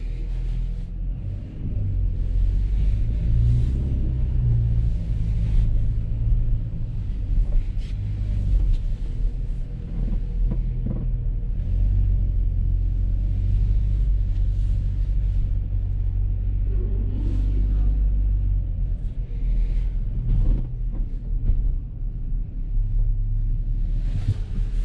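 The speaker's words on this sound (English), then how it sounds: "So you start the engine with the keyless function" A 2023 Ford Equator Sport SUV engine runs with a steady low rumble throughout, heard from inside the cabin with a constant drone and faint road and wind noise.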